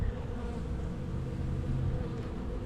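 Honey bees hum in a dense, steady drone at an open hive on a mild 68-degree March day, close and continuous with no voices.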